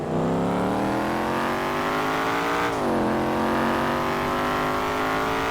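A C7 Corvette V8 engine in GTA V accelerates hard, a loud steady roar climbing in pitch, dipping briefly at an upshift and then rising again, with no talking.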